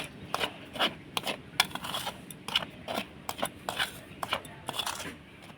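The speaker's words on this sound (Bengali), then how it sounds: "এবার আমি শুকনো উপকরণগুলো একটুখানি মিশিয়ে নেবো" Dry spices, turmeric powder and flour stirred together in a bowl for a Bengali chop batter, a run of quick dry scraping and rubbing strokes in an irregular rhythm, close and fairly soft with no talk.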